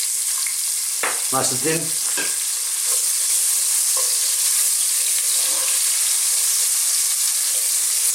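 Thinly sliced red onion added to a pan with braised red cabbage, giving a steady frying sizzle with stirring scrapes near the start, while a voice talks briefly over it.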